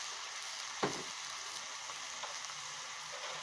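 Bean sprouts stir-frying in a pan as soy sauce goes in: a continuous close sizzle and hiss, with one brief sharp spatter when the liquid hits the hot pan.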